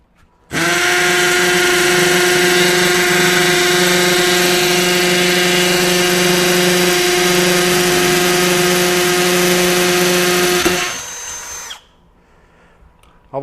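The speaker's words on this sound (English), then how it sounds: "we'll drill into the cinder block" A Milwaukee M12 FUEL Gen 3 hammer drill with a 3/8 multi-material bit bores into cinder block, one loud steady whirring burst lasting about ten seconds, then cutting off sharply and leaving quiet room noise.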